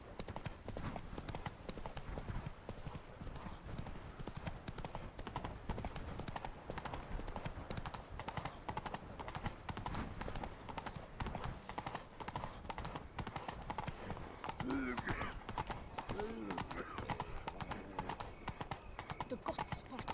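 A horse in The Witcher 3: Wild Hunt gallops with fast, continuous hoofbeats up close, with a brief whinny and a voice talking over the ride.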